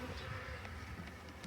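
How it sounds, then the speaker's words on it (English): Honey bees buzz steadily over a hive frame in an apiary, a dense continuous drone close by with no talking, at a low, even level throughout. "What do we got here? Some bees and some honey."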